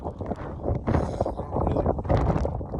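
Wind blows hard through a snowstorm with the snow driving sideways, a continuous rough rush buffeting close against the microphone with surging gusts and no clear voices.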